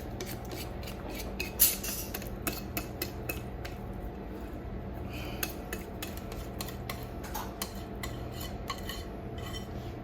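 Thin sheet-pan pancake batter scraped out of a bowl into a pan, heard as quiet, scattered taps and scrapes of a utensil against the bowl over a steady background hum.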